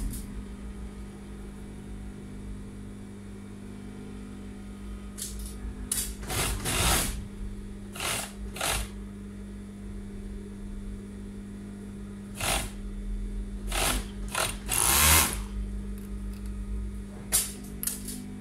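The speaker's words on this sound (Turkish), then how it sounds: "Ön bedenimi üste alarak omuzlarını dikiyorum." A sewing machine runs in several short bursts and one longer stretch while stitching the shoulder seams of a pleated dress, close and moderately loud over a steady low motor hum.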